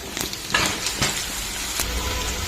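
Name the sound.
dried drumstick and curry leaves added to curry, stirring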